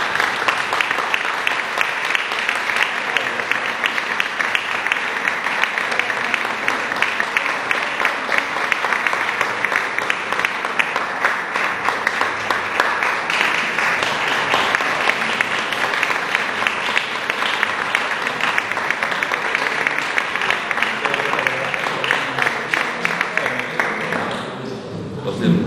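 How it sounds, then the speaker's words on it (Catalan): Festival crowd at a town's annual celebration gives sustained, steady applause for a poster contest winner, a continuous wash of clapping lasting over twenty seconds before tapering off. "ens un aplaudiment"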